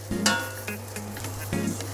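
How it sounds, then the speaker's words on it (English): Egg fried rice with spring onion sizzles and hisses in a hot wok, with intermittent scraping and clinking of a metal spatula stirring the rice, close and continuous. "You hear the sizzling, right?"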